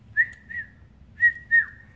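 A person whistles in imitation of birdsong, four short clear high notes in two pairs, the last one dipping in pitch, over a faint low background.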